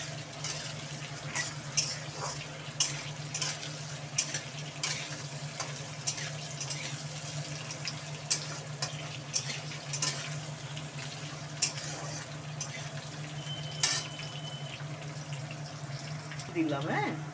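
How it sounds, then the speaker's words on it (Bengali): Water is poured into a pan where potatoes and papad are frying, with a steady watery rush and hiss over a low hum and scattered scraping clicks, at close range. "হ্যাঁ, জলটা দিয়ে দিলাম।"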